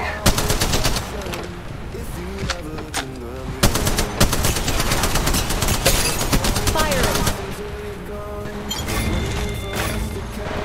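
Gunfire in Apex Legends Mobile: loud, dense bursts of rapid automatic fire with sharp single shots, nearly continuous, mixed with game effects and occasional voice callouts.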